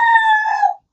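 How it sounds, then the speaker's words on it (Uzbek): A farm rooster gives one loud, close crow, a single drawn-out call that fades off before the end, with no talk around it. "Mana xo'rozimiz."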